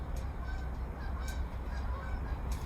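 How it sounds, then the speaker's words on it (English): Faint honking of geese, a few short calls spaced apart over a steady low background hum. "Got some geese."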